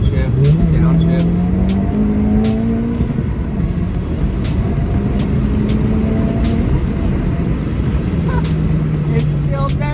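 A car engine revs up and drops back through repeated downshifts while running during a crankcase pressure test, loud and close throughout, with the pitch rising and falling in waves and a voice talking over it.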